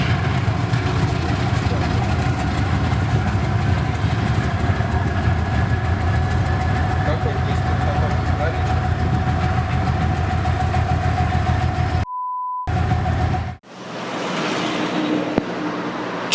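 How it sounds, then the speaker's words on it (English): A diesel locomotive starting up gives a loud, dense, steady engine rumble and roar that holds for about twelve seconds. It then cuts off abruptly and is followed by quieter, lower engine noise. "Want to see what starting up a diesel locomotive looks like?"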